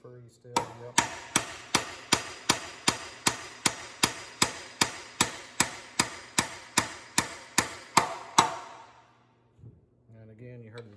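A quick run of evenly spaced hammer taps rings out close by as a shaft is driven into an Allis-Chalmers WD tractor transmission, about eighteen strikes, then stops and leaves a quiet tail with faint movement.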